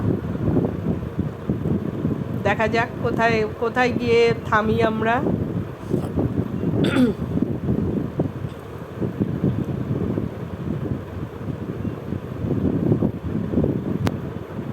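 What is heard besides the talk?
strong wind on the road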